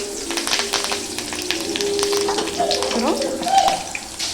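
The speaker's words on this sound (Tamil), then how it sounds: "இது கொஞ்சம் கோல்டன் ப்ரௌன் ஆகிற வரைக்கும் வதக்கிக்கலாம்." Paneer sautéing in a pan until golden brown, a steady moderate sizzle and crackle with faint stirring scrapes throughout, no talking.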